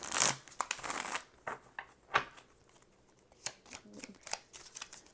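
Tarot cards are shuffled by hand nearby, a burst of riffling followed by scattered soft slaps, taps and flicks of the deck at an uneven pace, with no one speaking.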